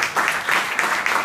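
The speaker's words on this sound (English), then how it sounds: "give him a round of applause" Hackathon audience gives a short burst of applause, a dense wash of clapping at moderate volume with no clear individual claps standing out.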